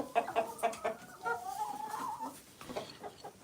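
Several free-range chickens clucking nearby in short, uneven bursts, with one longer drawn-out call in the middle, in winter.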